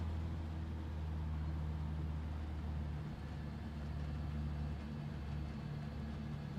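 Seaplane engines throttled back to idle after a night water landing in Microsoft Flight Simulator 2020, a steady low droning hum that stays even and unbroken throughout.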